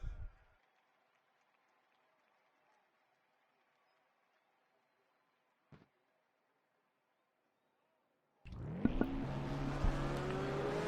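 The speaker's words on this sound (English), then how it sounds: "Drivers, start your engines!" Race car engines fire up together at the start of a NASCAR-style stock car race in a racing video game at North Wilkesboro. Near silence gives way to a sudden loud, sustained roar of many engines.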